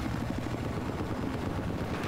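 A helicopter in the Battlefield 4 video game on the Lancang Dam map roars steadily, a loud continuous rotor and engine drone filling the whole stretch.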